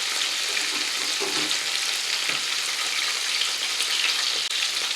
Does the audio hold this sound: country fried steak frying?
yes